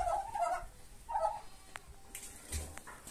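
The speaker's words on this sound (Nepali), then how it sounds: "टर्कीहरू पनि छन्" Turkeys on a small family farm give a few loud gobbling bursts near the start and again around the middle, with a later sharper call and low rumble, moderately close with no talk over them.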